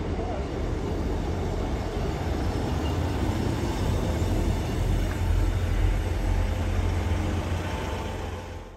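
A former Metro Class 158 diesel multiple unit runs past on the line near Saltmarshe, a loud steady rumble with engine drone that swells slightly mid-pass and eases toward the end, heard alone.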